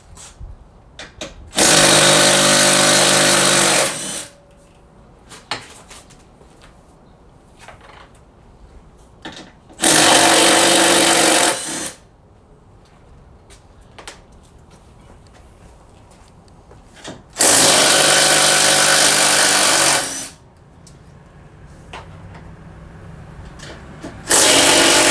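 An impact wrench with a 13mm socket works on the strut tower of a 2013 Ford Mustang GT during a strut tower bar install. It fires three long, loud, close bursts with quiet pauses between them.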